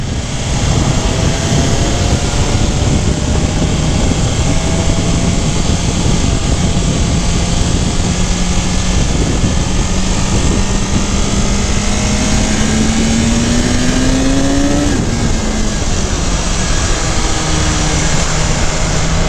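A BMW S 1000 RR sport motorcycle engine roars steadily and loudly, its pitch climbing gradually through a long pull before dropping briefly, with wind noise throughout.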